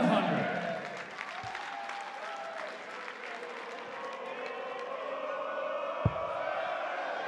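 Arena crowd at a PDC European Tour darts match in Düsseldorf keeps up a steady roar of cheering and applause, loud and continuous throughout, with a sharp clap near the end.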